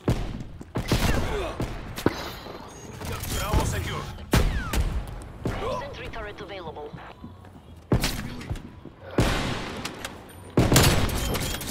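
Sniper rifle shots in a Call of Duty: Black Ops Cold War snipers-only Moshpit match, several sharp loud cracks spaced out over about twelve seconds, with a player talking excitedly throughout and game noise between shots.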